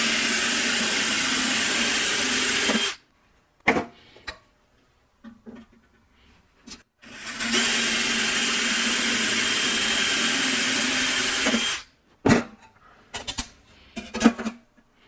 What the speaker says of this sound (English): and now I'll drill that through